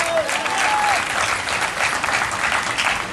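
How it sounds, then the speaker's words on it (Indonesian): A church congregation at an evening revival service applauds continuously, a dense wash of clapping from many hands that holds steady throughout with a brief voice at the start. "Mana tepuk tangan?"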